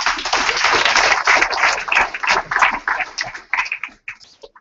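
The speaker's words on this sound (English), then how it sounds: "So give him another round of applause." Audience applause at a Barcamp Nairobi 2014 talk, a dense burst of many hands clapping that thins and fades out over a few seconds.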